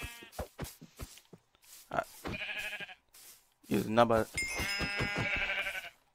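Sheep bleating in the Minecraft video game, a few short wavering bleats in the latter part of the clip, heard between and under a man's speech while he heads toward the flock.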